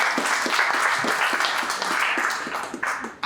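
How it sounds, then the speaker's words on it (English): A student audience breaks into sustained applause, steady dense clapping from many hands in a hall, loud and continuous before tapering at the end. "that deserves a round of applause"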